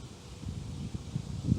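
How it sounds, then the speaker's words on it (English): Gusty wind buffets an outdoor microphone during a coin and token find, a low rumbling roar that swells and thumps irregularly, moderately loud and alone without speech. "Man, this wind's bad today."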